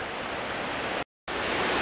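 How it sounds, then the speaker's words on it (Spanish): Streams and waterfalls feeding the Faro river roar in a steady, loud broadband wash of rushing water, broken by one brief gap of silence. "La cantidad de regatos que van a parar al río Faro"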